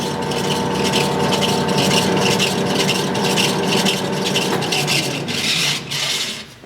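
An Oster revolving die head pipe threading machine runs in reverse, producing a loud, steady mechanical whir and grinding drone that holds for several seconds before easing off near the end.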